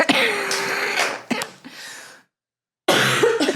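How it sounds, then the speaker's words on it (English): A person coughs in close, harsh bursts, a few throaty coughs followed by a brief silence and another cough. "my cough is like acting up"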